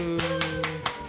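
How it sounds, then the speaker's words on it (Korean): A few people clap along after a birthday song, with sharp, evenly spaced claps in a steady rhythm over a faint sustained musical tone. "박수."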